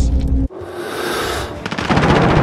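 Gunfire in the video game Call of Duty: Modern Warfare comes as loud, dense bursts, a heavy blast cut off abruptly, then a roaring stretch and rapid clattering shots near the end, close and continuous.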